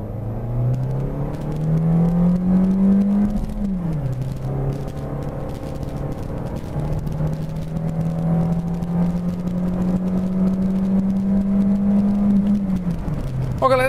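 Renault Captur Intense accelerating from 0 to 100 km/h in drive, heard from inside: engine tone rising steadily, dropping at a gear change, then climbing again in a long continuous pull.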